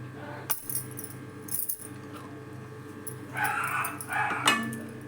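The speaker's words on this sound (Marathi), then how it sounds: "आमची रोजी नुसती वर भुंकत असते" A dog gives a few short barks and yelps near the end, against a low, steady background hum and some light clinks.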